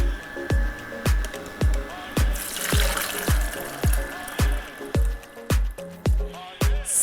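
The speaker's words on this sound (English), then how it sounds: "you can see the milk coming to life in the machine. It's swirling around in there, mixing up." A Kuvings EVO820 cold-press slow juicer swirls almonds and water into almond milk, giving a regular series of wet sloshing pulses about twice a second over a faint steady motor hum, close and fairly loud.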